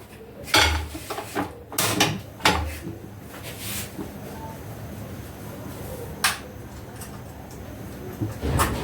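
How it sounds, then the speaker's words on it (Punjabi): A wok is set down on a home kitchen stove, with several sharp metallic clanks and knocks of cookware near the start and one more later, over a low steady background hum. "ਕੜਾਹੀ ਰੱਖੀ"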